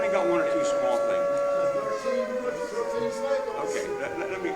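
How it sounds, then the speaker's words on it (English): Sirens wail outside during a Lower Mount Bethel Township board meeting, a steady, sustained tone that holds throughout with voices in the room underneath. "let me go past the sirens."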